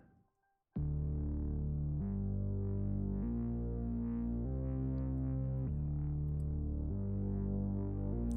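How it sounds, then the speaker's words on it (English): A thick, buzzy Moog-style synthesizer bass holds sustained notes that shift pitch every second or so, loud and steady after a brief quiet start. "That's like a Moog bass kind of bass sound."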